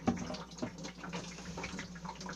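Water drains out of a bucket holding soaked recycled paper pulp being pressed into fire logs, a soft continuous trickle with small drips and gurgles, close and quiet, no speech.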